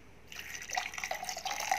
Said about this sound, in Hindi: जार में जो थोड़ा सा चिपक गया है तो इसके अंदर डालेंगे चिल्ड ठंडा पानी